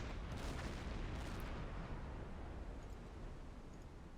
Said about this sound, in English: Nice bit of deck gun action